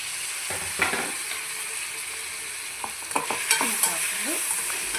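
Tomatoes stirred and fried in a pan for broad beans palya, a soft steady sizzle broken by a few scraping, clattering strokes of the spoon, close by with no talking.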